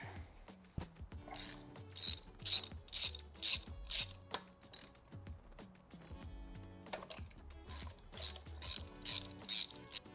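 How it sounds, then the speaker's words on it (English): A hand ratchet working spark plugs out of a car engine being prepared for Bathurst, rapid rhythmic clicking bursts repeated in short strokes, close and fairly quiet, with no talk. "let's pull these plugs out, change them out"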